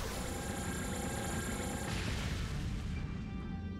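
A magic missile attack lands in the Eiyuden Chronicle video game, a dense booming blast like artillery fire that stays loud and steady for several seconds, thinning out slightly toward the end.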